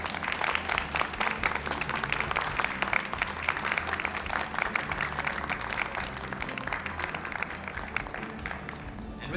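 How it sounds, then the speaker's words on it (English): Sustained applause from a crowd at an evening staff awards ceremony for Anthro Northwest 2023, honoring volunteers, panelists and supporters; dense, steady clapping fills the room without a break. "Please, a round of applause for each and every one of our volunteers,"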